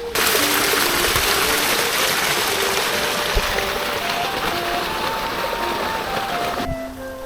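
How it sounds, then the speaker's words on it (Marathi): Water gushes loudly and continuously from an electric motor pump outlet on a corn farm, a dense, steady rush with a faint tonal hum running underneath. "मोटर चालू केली आणि पाणी सुरू केलेलं आहे"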